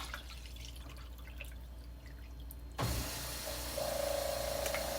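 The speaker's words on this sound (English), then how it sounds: "32-ounce pitcher of water. I'm going to pour it in here." Quiet room tone, then a sudden burst of water poured from a 32-ounce pitcher into a crock pot, splashing and gurgling continuously as it fills.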